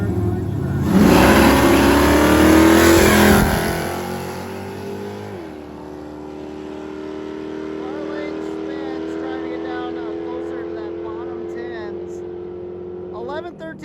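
A drag racing vehicle, a Blazer or Geo Tracker at a midwest drags event, roars loudly as it launches and accelerates down the strip, then settles into a sustained engine drone as it pulls away, with a voice talking over it.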